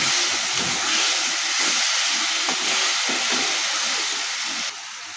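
Mustard and poppy seed paste frying in oil for a Bengali doi pabda fish curry, a steady loud hiss and sizzle running throughout with faint crackle, no voices.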